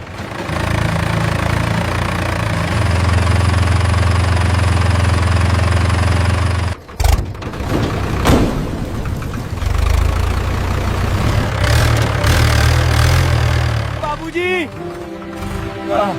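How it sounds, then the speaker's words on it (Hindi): A diesel tractor engine chugs and runs with a low rumble, cuts out briefly, then rumbles again while voices talk over it. "पानी से ट्रैक्टर चालू हो गया"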